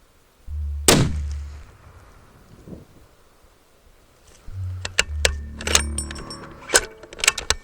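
A long range rifle fired at a distant target, one sharp loud close blast with a short rumbling tail, then a quiet pause before handling clicks and rustles near the shooter.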